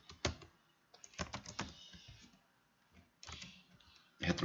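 Quiet, irregular bursts of clicking keystrokes on a computer keyboard as code is typed, clustered in quick runs with short pauses between.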